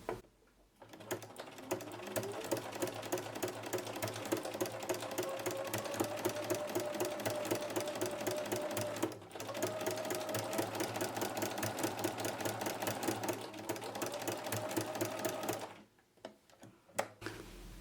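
Sewing machine fitted with a ruffler foot pleating fabric, a fast steady mechanical clatter running near and loud for long stretches, with brief pauses before stopping near the end.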